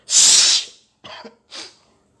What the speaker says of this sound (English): I had just grabbed the doorknob when I felt another sneeze coming on.